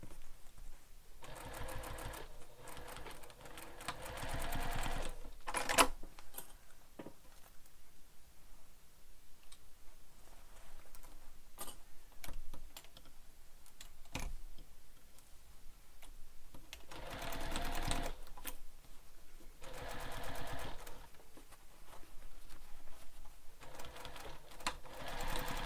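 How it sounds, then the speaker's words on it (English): A sewing machine stitches the seam of a bowler bag's lining in several steady runs of rapid mechanical chatter, with quieter pauses of faint clicks and fabric rustle between bursts, close and unaccompanied by talk. "sew this again with the seam allowance given in the pattern"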